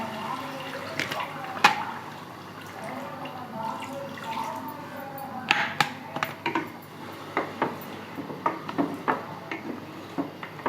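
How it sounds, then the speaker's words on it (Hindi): Water is poured into a pot of degi mutton korma as it cooks, with faint splashing and a run of short drips and clinks in the last few seconds, fairly close and quiet. "इसमें हम 1 कप पानी मिला देंगे।"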